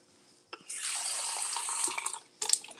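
Fruit washed under a running kitchen tap: a steady, close rush of water flows for about two seconds, stops, then splashes briefly again with small clinks of handling.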